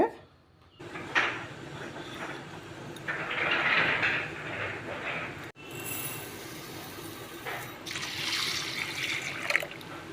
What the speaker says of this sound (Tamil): தண்ணி ஊற்றி ரெண்டு தடவை கழுவிடலாம்